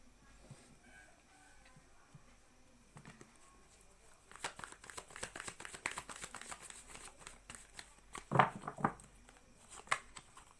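Tarot cards rustle and slide as they are drawn from a deck, with soft crinkling and shuffling bursts that grow busier midway and include a few sharper snaps, all close and fairly quiet.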